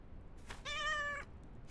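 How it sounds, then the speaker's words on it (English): A black cat in the video game Noble Legacy gives a single clear, drawn-out meow, close and alone against quiet ambience. "That's a black cat."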